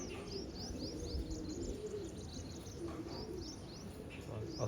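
Soft pigeon coos repeat through a steady outdoor hum, with some brief chirps from other birds mixed in at a moderate distance.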